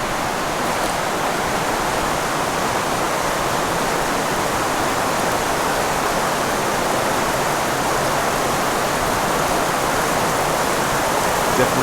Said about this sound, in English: And away we go in the pale ale colored creek